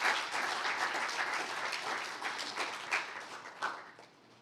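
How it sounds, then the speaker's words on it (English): Sustained applause from an audience for spelling bee finalists at a Ministry of Education competition, many hands clapping together in a dense, even wash with a few sharper claps standing out. "So let's give all of them a big round of applause."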